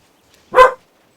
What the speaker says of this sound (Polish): mój pies E, postanowił sobie poszczekać.